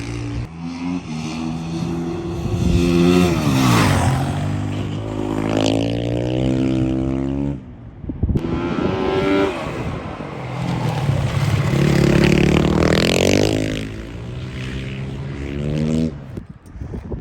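A racing motorcycle on a track revs hard, its pitch climbing through the gears, then drops away briefly before revving up again, loud and fairly close.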